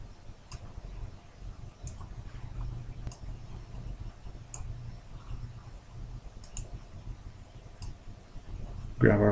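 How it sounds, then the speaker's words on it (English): Sparse computer mouse clicks come at irregular intervals as columns are dragged in Wireshark, faint and close over a low background hum, with a brief louder noise at the very end. "so you can just click and drag them to the position that you want them in."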